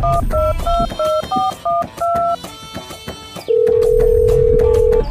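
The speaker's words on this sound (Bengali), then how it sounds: "আমার ক্যামেরাম্যানদের ফোন দিয়ে লই" A quick sequence of keypad dialing beeps, each a short two-note tone, followed by a long steady electronic tone.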